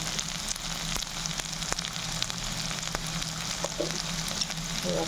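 Small potatoes fry in oil in a kadai, a steady dense sizzle with occasional scraping stirs and light clinks throughout, close and moderately quiet, with no talking.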